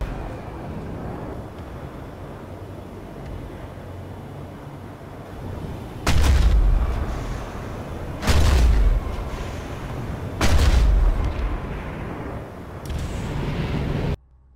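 Tank cannon fire in the PlanetSide 2 video game, from the tank called the Prototype: four loud, booming shots a couple of seconds apart, each with a deep thud and a short tail, over a steady low rumble of background noise.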